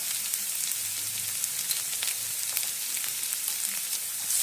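Asafoetida and turmeric powder sizzle in hot oil with garlic for vada pav potato filling, a steady close hiss of frying with no pauses and no voices.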